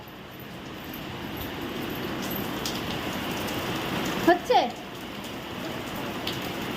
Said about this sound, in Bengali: বিশাল জোরে বৃষ্টি হচ্ছে আওয়াজ শুনবে দাঁড়াও